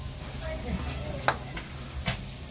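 Chicken fillet fries in a pan with a soft steady sizzle, a couple of sharp utensil taps near the end.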